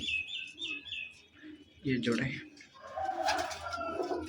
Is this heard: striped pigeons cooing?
yes